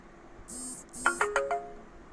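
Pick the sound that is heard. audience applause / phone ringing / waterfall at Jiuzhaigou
phone ringing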